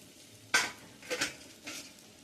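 A lid comes off a cooking pot of water heating on a gas stove in a home kitchen: one sharp metallic clink, then two softer scraping clatters and a final light knock, close and fairly quiet.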